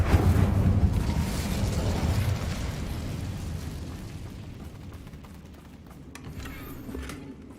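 A fire spell cast in the Hogwarts Legacy video game: a loud, roaring whoosh of flame bursts up at once, then slowly fades into a lower, rumbling crackle.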